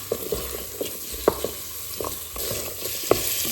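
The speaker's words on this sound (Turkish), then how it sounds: "sarımsak ve havucumu ekliyorum. Güzelce karıştırıyorum." Garlic and carrots frying in a Philips All In One Cooker while being stirred: a steady close sizzle punctuated by several sharp scrapes and knocks of the spoon against the pot.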